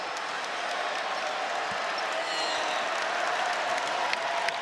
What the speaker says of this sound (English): This crowd is responding to a couple of fans on the video board